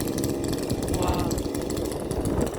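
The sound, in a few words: chainsaw cutting oak firewood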